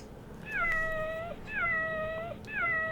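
A human voice imitates a cat with three drawn-out, high meows in a steady rhythm, each one gliding down at its end, close and clear over a low background hum.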